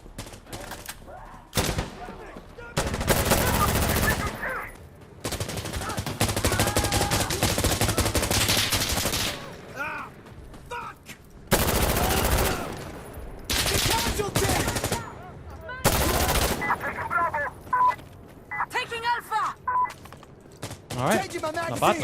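Honey Badger rifle fire in Insurgency: Sandstorm comes in loud, close bursts of rapid automatic shots, several separate volleys broken by brief pauses, with a voice talking between them.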